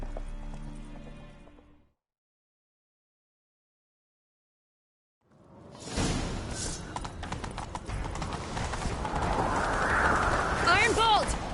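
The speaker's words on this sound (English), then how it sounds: "Grab a horse, we'll chase him down." In The Witcher 3, after a short silence, hooves clip-clop rapidly in a galloping rhythm, joined by a horse's whinny and rushing movement sounds.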